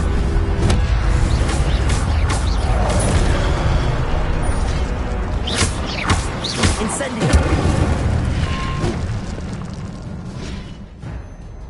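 Spell effects in Hogwarts Legacy on PS5: the Incendio fire spell erupts in loud bursting blasts and whooshes over a busy game soundscape, with a deep boom near the middle before the sound tapers off.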